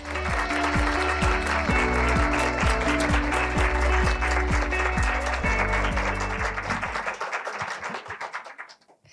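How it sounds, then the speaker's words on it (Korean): An audience of teachers at a talk concert applauds as a university early-childhood education professor takes the stage, with steady clapping over a rhythmic background, fading out near the end. "등단하실 때 박수로 함께 해주십시오."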